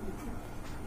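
Indonesian Modena pigeon, a home-bred bird, cooing softly in a low, continuous murmur with steady background noise.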